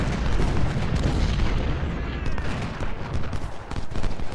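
Artillery booms and rolling musket gunfire in Ultimate General: Civil War at the Battle of Chancellorsville, a dense, continuous loud fusillade with no pauses.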